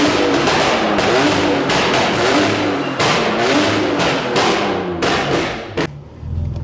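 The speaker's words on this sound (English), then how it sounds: "we are going to see if the pop flame map tune on these BMWs can break a bottle or not" A BMW with a pop and flame map tune revving hard and loud up close, with sharp crackling exhaust pops and bangs breaking through the engine roar in several bursts.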